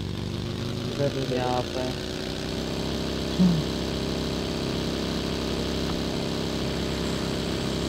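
A motorcycle engine idles and runs steadily in the battle royale game BGMI, a continuous mid-pitched drone under a voice talking over it.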